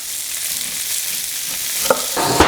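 Small sliced onions fry in oil, a bright, steady sizzle close by that swells slightly toward the end, with a couple of faint clinks of stirring and no speech.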